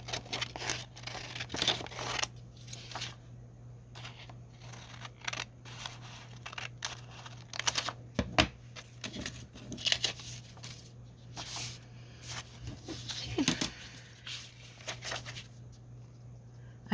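Scissors cut down a paper page to make a card pocket, giving irregular crisp snips and rustles of handled paper over a steady low hum, close by.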